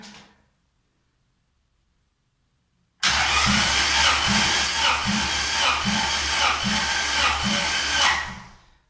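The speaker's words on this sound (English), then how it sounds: "Let's give it a crank and hopefully I won't wake up the neighbors." A Honda H22 engine cranks over for a compression test on a balcony, starter whirring with a regular pulsing beat for about five seconds after a silent pause, then stopping; close and loud.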